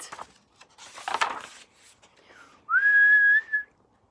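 A person gives a short whistle, a single bright tone that dips and then holds before cutting off, following quieter rustling sounds.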